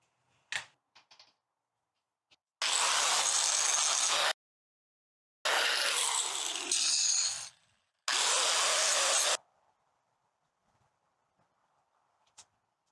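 A sanding pad on a 4.5 inch angle grinder cleans up welded scrap metal on a jet ski stand, heard as three loud, sustained bursts of abrasive whirring with short pauses between them.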